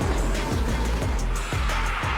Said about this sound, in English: Drifting 172 miles per hour isn't for the faint-hearted